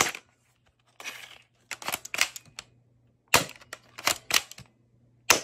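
A spring-powered gel blaster, an MP5K type with its slide pulled back, fires a string of sharp snapping shots, first singly and then in quick clusters, loud and close with nothing else heard between them.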